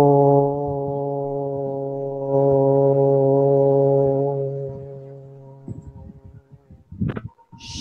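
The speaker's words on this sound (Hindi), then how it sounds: "फिर से ओम की ध्वनि करेंगे" A group chants a long, steady Om in meditation, a deep resonant hum sustained for several seconds before fading out, followed by faint rustling and a brief voice at the end.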